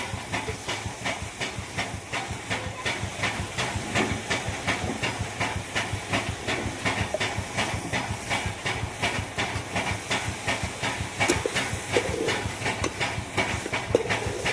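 Steady hiss of steam rising from masala rice with cauliflower, potato, tomato, peas, chillies and curry leaves cooking on a wood-fired stove, loud and close, with a constant pulsing crackle running underneath throughout.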